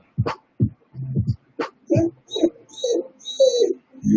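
A puppy whimpering in a series of short, close, high whines and yelps, repeated in uneven bursts with brief gaps between them.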